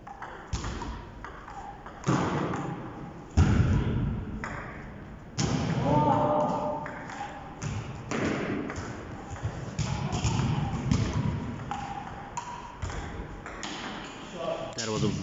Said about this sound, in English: That was a very good backhand shot. Truly superb.